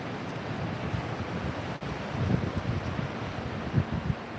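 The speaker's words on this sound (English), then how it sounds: "you can hear the ocean even when the windows are closed" Ocean waves roll in near a beach house as a soft, continuous surf wash mixed with wind noise on the microphone, with a few low thumps and no one talking.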